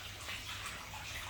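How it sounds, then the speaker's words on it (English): Water pouring into a large 8,000-gallon backyard pond: a steady, hissing rush of filling water, continuous and moderately close, no talk. "We're now putting some water in."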